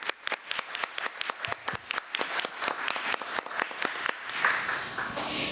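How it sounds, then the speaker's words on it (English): Audience at a committee meeting applauding with a steady patter of many hands clapping at moderate distance, lasting several seconds. "if you would give her a round of applause"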